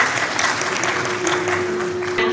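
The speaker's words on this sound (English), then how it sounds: "A huge round of applause for our German ambassador to India." A crowd at a climate change conclave gives a dense, continuous round of applause for the German ambassador to India, loud and close with no pauses.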